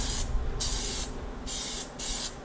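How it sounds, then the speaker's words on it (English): Aerosol can of black PlastiDip sprayed onto Silverado wheels in four short hissing bursts with brief pauses between, close and steady. "So I'm gonna go ahead and just spray these"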